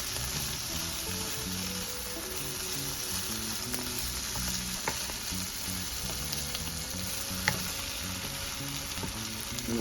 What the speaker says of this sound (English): See how this green bean is fried?